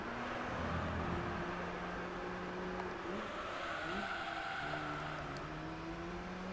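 Mazda RX-7 rotary engine from the Gran Turismo 3 racing game, a steady droning engine note with shifting pitch that rises and falls throughout, heard alone without talk.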